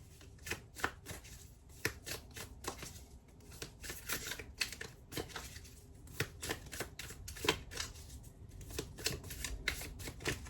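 An oracle card deck is shuffled by hand, giving close, crisp riffling and flicking bursts in an irregular rhythm with short pauses, alone and fairly quiet.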